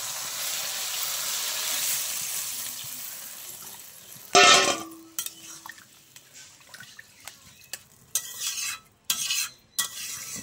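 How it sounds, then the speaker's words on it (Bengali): Water is poured into a pot of fish curry with rohu, potato and pointed gourd. A close splash is followed by bubbling and sizzling, scattered clinks of utensils and a few louder stirring bursts. "এবার আমি জল দিয়ে দেবো।"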